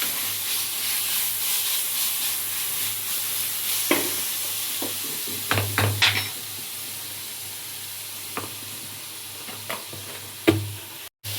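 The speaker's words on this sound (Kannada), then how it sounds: "ಶುಂಠಿ ಬೆಳ್ಳುಳ್ಳಿ ಪೇಸ್ಟ್ ಹಾಕೊಂಡು ಇನ್ನೊಂದು ಸಲ ಕರೆಕ್ಟಾಗಿ ಈರುಳ್ಳಿ ಫ್ರೈ ಆಗೋವರೆಗೂ ಫ್ರೈ ಮಾಡ್ತಾ ಇದ್ದೀನಿ." Onion and ginger-garlic paste fry in oil for mango chitranna, a continuous close sizzle broken by several sharp stirring scrapes and clinks, with no voices.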